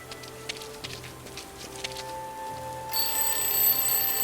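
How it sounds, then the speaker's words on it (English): An alarm clock placed in a rubbish bin in the game Lost Horizon rings out, a sudden high, steady electronic tone that starts partway through and sits over low game ambience and music. "I'll place the alarm clock in the rubbish bin. Let's see what happens when it goes off."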